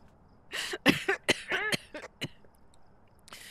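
Several sharp coughs and throat-clearing bursts, close and fairly loud, scattered over a few seconds in a Halloween ghost-hunting video game set in a house, with quiet pauses between them.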